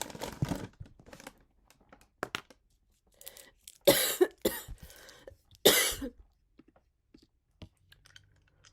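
A woman coughs in a few sharp, loud bursts around the middle, with lighter rustling and clicks before and after and a faint low hum near the end.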